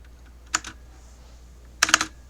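Two short bursts of computer keyboard typing, a quick pair of clicks then a tighter cluster of several keystrokes, close and crisp over a quiet room with no talking.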